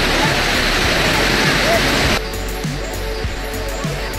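Tinago Falls waterfall roars close and loud at first, then the rushing water drops to a softer, steady wash of falling water with faint voices behind it.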